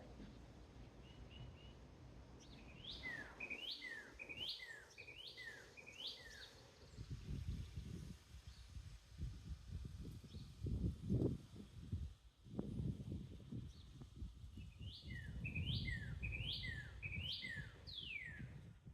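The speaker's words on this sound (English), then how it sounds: "we're just going to listen to the animals and the birds around us" Birds chirp in two bursts of quick, repeated calls outdoors, with low rumbling background noise in between.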